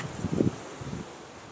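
Gusty wind blows outdoors ahead of an approaching storm, a soft rustling whoosh that swells briefly and then settles into a faint steady hiss.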